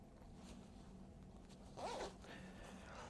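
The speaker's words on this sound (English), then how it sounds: "when you zip it up, let me zip it up for you" Zipper on homemade flared jeans pulled up once in a quick rasping run, close and fairly quiet, with a faint steady background hum.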